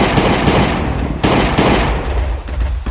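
A gun fires in the Last Day on Earth survival game, a rapid series of loud, close bangs in bursts, with sharp blasts standing out among the continuous crackle of shots.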